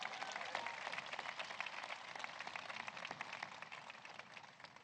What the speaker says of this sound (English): Please, another round of applause for our amazing speaker.